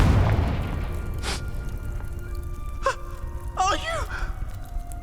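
A Confringo fire spell in Hogwarts Legacy bursts with a heavy low boom at the very start, then fades under crackling effects while characters exclaim and gasp.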